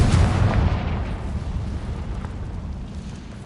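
A Confringo blasting spell explodes in Hogwarts Legacy, one heavy, close boom with a deep rumbling tail that slowly fades over a few seconds.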